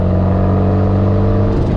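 Built 400 hp turbocharged Mazda Miata with a side exit exhaust on Nitto NT01 tires, droning loudly and steadily from inside the car while driving on the street, with a deep constant engine hum and no talk.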